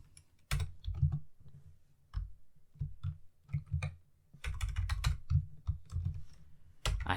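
Someone types on a new computer keyboard in uneven bursts of crisp key clicks and clacks, with short pauses between runs, close and clear with no talking.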